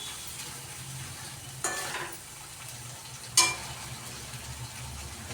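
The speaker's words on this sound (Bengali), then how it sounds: "দেখো, আমার তেল এবার বেশি বেশি উঠেছে, মানে কষানো হয়ে গেছে পটলটা।" Pointed gourd (potol) sizzles gently in oil with a faint continuous crackle, broken twice by a louder sharp scrape of a spatula stirring in the pan.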